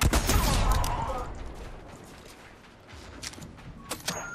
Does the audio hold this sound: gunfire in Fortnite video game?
yes